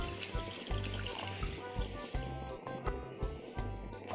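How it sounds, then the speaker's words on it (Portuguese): A small amount of water is poured into a cooking pot of rice with pork spine, a close splashing trickle with clinks and bumps on a stovetop under a pulsing low kitchen hum. "Vou colocar pouca água,"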